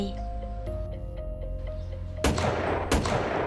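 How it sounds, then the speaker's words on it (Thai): A quiet tonal passage with faint ticks gives way to two sudden loud bursts of sharp, crackling gunfire close by. "ก็มีเสียงปืนยิงถี่รัว ราวกับข้าวตอกแตก"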